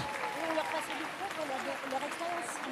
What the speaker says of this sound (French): On fait des applaudissements pour les encourager.